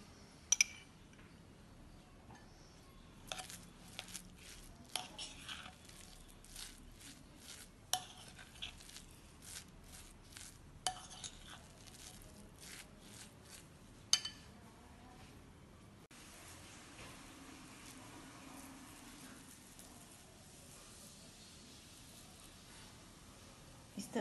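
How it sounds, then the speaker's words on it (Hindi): A spoon stirs a gulkand and dry fruit mixture with ghee in a bowl, giving scattered light clinks and scrapes, faint and irregular, with quiet background. "और फिर अच्छे से एक बार फिर से मिक्स कर लेंगे। और 1 टीस्पून घी मिक्स करेंगे।"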